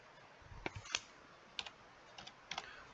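Keys clack on a computer keyboard as a short dimension value is entered, several quiet, close taps in two small bursts.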